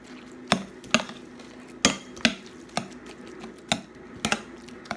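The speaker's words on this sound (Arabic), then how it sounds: "من ثم نخلط مع بعض" A spoon stirs a spinach filling seasoned with salt and black pepper, knocking against the bowl in a run of sharp, close clinks at an uneven pace.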